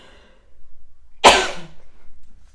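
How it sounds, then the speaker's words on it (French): A single sharp cough bursts out, close and loud, over faint background noise. "Je m'excuse pour que je tousse."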